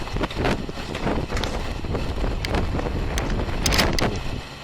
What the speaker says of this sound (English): A bit windy out here too right now.